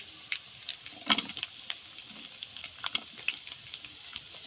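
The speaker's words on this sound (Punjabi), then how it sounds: "ਮਸਾਲੇ ਨੂੰ ਥੋੜਾ ਜਿਹਾ ਭੁੰਨ ਲੈਨੇ ਆ ਤੇ ਨਾਲ ਹੁਣ ਪਾ ਦਾਂਗੇ ਜੀ ਪਿਆਜ਼" Masala and onion for stuffed eggplant frying in a pan, a steady close sizzle broken by sharp spitting crackles and occasional stirring scrapes.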